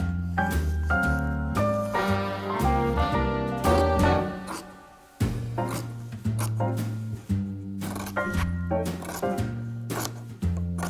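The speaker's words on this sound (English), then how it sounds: "I'm just going to sit here and cut squares until I'm bored" Scissors cut fabric squares for English paper piecing, a run of close, crisp snips and rustles falling in an uneven rhythm, with a short pause midway before the cutting resumes.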